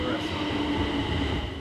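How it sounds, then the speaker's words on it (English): A train in Yokohama, Japan, rumbles with a loud, continuous low roar and steady hum as it runs, heard from close by with faint voices underneath. "We are catching a train to downtown."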